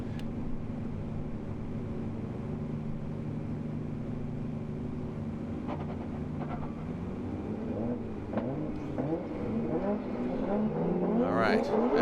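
Formula Drift Nissan S15 cars running in tandem at Salt Lake City, a steady distant engine drone that builds into louder revving and tire noise toward the end.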